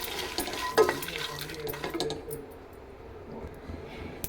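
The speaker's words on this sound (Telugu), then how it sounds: "ధనియాలు, జీలకర్ర ఇవి కూడా వేసి వేయించుకోవాలి." Coriander seeds and cumin being dry-roasted in a pan, with a spoon scraping and stirring and seeds rattling against the metal, close and fairly quiet.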